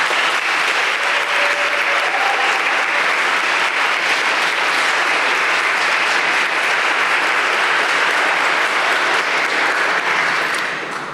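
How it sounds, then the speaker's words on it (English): Sustained applause from a crowd honoring graduates at an EMS graduation ceremony, loud and steady throughout before tapering slightly at the end. "if we could get a round of applause for the graduates"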